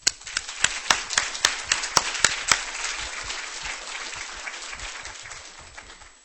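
Applause from a medical grand rounds audience on hypoparathyroidism welcoming a speaker, with sharp loud claps at the start that settle into a steady, fading patter of clapping.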